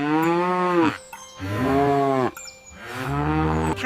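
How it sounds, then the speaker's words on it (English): A cow lows three times in a row, each moo a long, drawn-out, harmonic call with short gaps between, close and fairly loud. "Cow. This is a cow."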